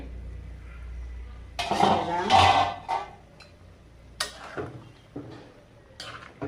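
A metal pot lid clatters and scrapes in a few sharp bursts while fish with cauliflower cooks on the stove, with quieter kitchen knocks between them.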